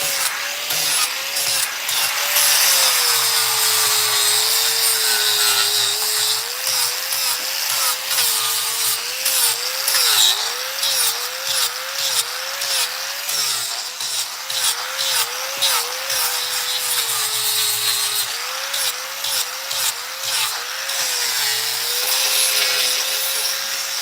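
A chainsaw drones steadily and loudly throughout, its pitch wavering as it bites into a pumpkin while carving, with short gritty scraping bursts on top.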